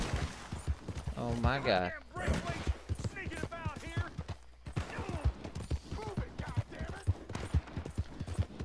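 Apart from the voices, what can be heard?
gunfire from the video game Red Dead Redemption 2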